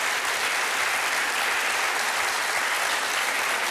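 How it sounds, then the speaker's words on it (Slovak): An audience applauds a sister with dense, steady clapping that stays loud and even throughout, with no voices on top. "Ja si myslím, že tvoja sestra si zaslúži veľký potlesk"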